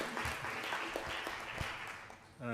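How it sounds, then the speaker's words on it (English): A meeting audience at a closing ceremony gives a quiet, distant round of applause, an even patter of many hands that fades before a voice begins speaking right at the end. "let's give him a round of applause"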